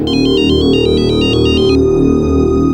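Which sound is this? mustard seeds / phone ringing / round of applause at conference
phone ringing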